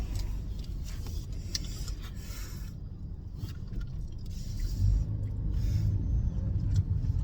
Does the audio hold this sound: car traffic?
yes